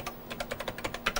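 Typing on an old Tandy computer keyboard, a quick run of about a dozen sharp key clacks in uneven rhythm, close and clear with nothing else over it.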